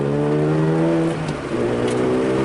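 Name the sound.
Mazda FD RX-7 engine revving under throttle while drifting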